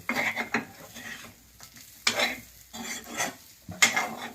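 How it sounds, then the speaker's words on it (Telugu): Chicken fry being stirred in a pan, with bursts of spoon scraping and clattering over a low sizzle, close and fairly loud, in uneven strokes with short pauses between them. "బాగా కలుపుకోండి."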